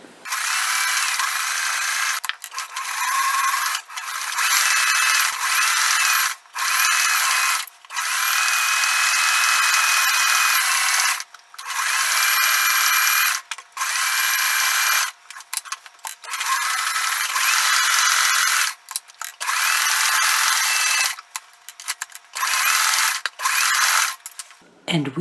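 A sewing machine runs in long continuous bursts while top-stitching the raw edges of a fusible quilt block, the steady motor buzz breaking off briefly between passes as the fabric is turned up and down, loud and close with no talk.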